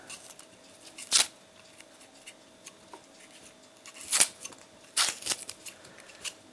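Vegetable beards snipped off with kitchen scissors, four or five sharp cuts spread out, close and crisp against a quiet room.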